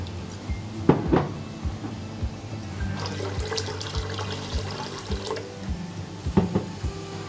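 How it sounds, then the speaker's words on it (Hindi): Water poured into a pressure cooker holding lentils on a stove, two cupfuls going in with a close splashing rush and a few clanks of the cup against the metal rim. "दो कप पानी डालूंगी।"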